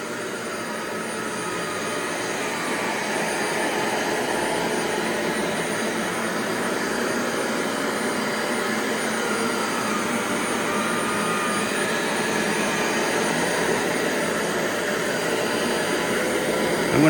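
A Clean Obsessed dual-motor upright commercial vacuum runs with a steady, loud, close whine and rushing roar that holds constant throughout, with no talking.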